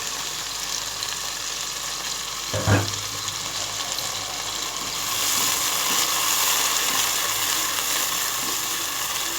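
Chopped tomato frying with beef and chana dal in a pan with a little water, a continuous loud sizzle marked by one sharp knock early on and a fuller hiss in the second half.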